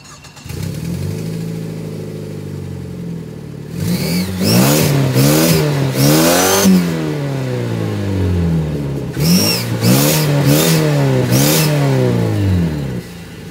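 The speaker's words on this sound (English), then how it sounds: "I'm gonna show you how my car sounds now" A 2008 Mazda 3's engine starts and then revs loudly and close, in repeated rising and falling sweeps with short bursts of acceleration across two separate runs, and no one talks over it.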